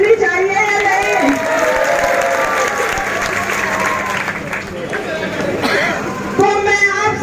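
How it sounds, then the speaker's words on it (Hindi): A crowd at a Samajwadi Party campaign gathering in Meerut claps and cheers, with dense, continuous applause mixed with excited voices and chatter throughout, swelling briefly near the end. "इनके लिए ताली तो ज्यादा जोर से बजनी चाहिए या नहीं?"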